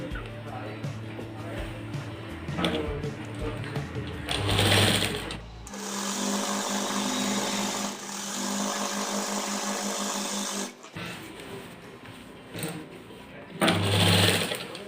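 A sewing machine stitches the shoulder seam of an apple-cut shirt, running in a long steady stretch between shorter bursts, close and loud.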